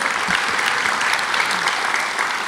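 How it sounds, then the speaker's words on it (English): Ceremony audience applauding for a parks agency leader, a dense, even wash of many hands clapping, steady and fairly loud with no speech. "That deserves a round of applause."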